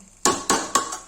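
A metal lid set onto a cooking pot of Kashmiri mutton rogan josh, giving three sharp, evenly spaced clanks with brief ringing tails, close and loud against a quiet background.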